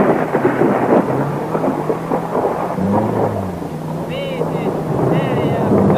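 Thunder rumbles through steady rain at a Finnish rally stage on stage 23, with a low drone underneath and a sustained, dense wash of noise across the whole stretch.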